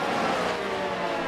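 Race car engines, including a McLaren, roaring steadily through a corner in a sim racing game on the Qatar circuit, a loud sustained engine drone with no voices over it.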